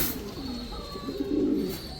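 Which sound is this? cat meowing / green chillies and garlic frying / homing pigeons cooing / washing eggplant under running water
homing pigeons cooing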